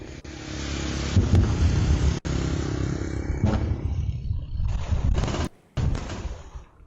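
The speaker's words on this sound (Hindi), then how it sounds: "तो जिस तरह से गोले दागे गए, आवाज भी सुनाई दे रही है।" Artillery shells fired from Cambodia into Thailand, loud heavy blasts and rumbling booms over a sustained roar, with sharp cracks near the two-second mark and abrupt dropouts later, no voices.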